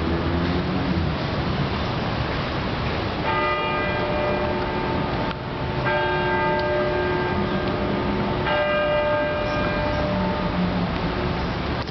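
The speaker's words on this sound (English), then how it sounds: "Three bells because it's 3:00." Church bells near Rittenhouse Square ring three times for 3:00, each strike a clear resonant toll with a lingering hum, spaced a few seconds apart over steady outdoor city noise.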